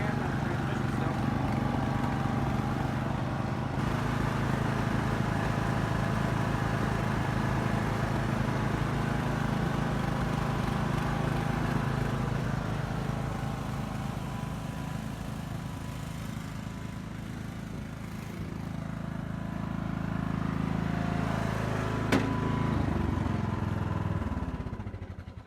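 An old rear-engine riding lawn mower runs at a steady, fairly distant drone for about twenty-five seconds, with slight shifts in pitch and volume and no clear talk.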